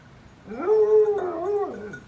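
A dog lets out a drawn-out whining howl, rising then wavering and falling over about two seconds, loud and close with no voices.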